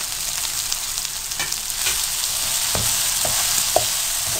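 Beef masala boti fries with spices in hot oil, giving a loud, dense and steady sizzle with a few soft knocks and scrapes of stirring underneath.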